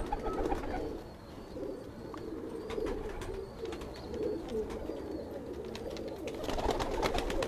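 Pigeons on a rooftop loft, including a Firozpuri youngster and Kasuri birds, coo in soft repeated throaty bursts against faint background noise.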